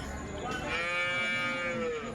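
A cow gives one long, drawn-out moo at a cattle market in Melapalayam, loud and close against a faint murmur of background noise.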